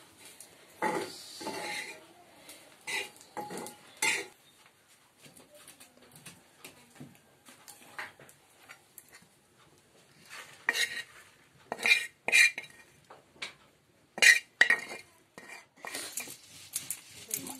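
Grated coconut roasts in a pan on a wood-fired chulha, stirred with irregular metallic scrapes and clinks, birds cooing softly in the background.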